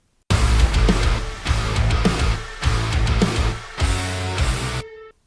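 Heavy metalcore breakdown built from a Serum 2 synth preset with VintageVerb reverb, four loud chugging bursts with pounding low hits and a glassy reverb tail ringing out at the end.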